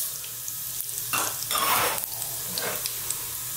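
Cumin seeds, dried chilli and black mustard seeds sizzling and crackling in hot oil in a pan, a close hiss that swells in short bursts as the spices are stirred, no talking.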